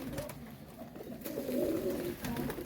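Soft, low pigeon cooing rolls on steadily, with murmuring calls overlapping at moderate volume and no talking.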